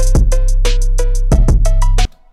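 A phonk-style hi-hat starter pattern programmed in Ableton Live plays loud and close, crisp metallic ticks over a booming low bass thump in a steady groovy rhythm, stopping abruptly at the end.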